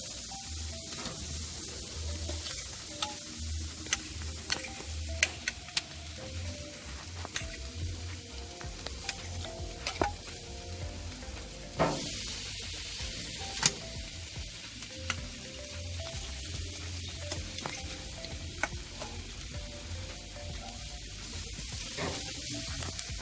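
Jamaican jerk pork sizzles over a smoky grill, a constant crackling hiss with sharp pops and spatters spread throughout, close and steady without any talking.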